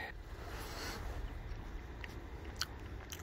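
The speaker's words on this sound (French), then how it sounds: "ça croque un peu sous la dent, mais ça va, ça se mange." Crunchy beignets being chewed, soft close crunching and mastication over a low rumbling background, faint and with no talking.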